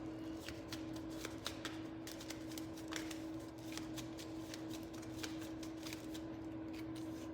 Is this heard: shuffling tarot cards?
yes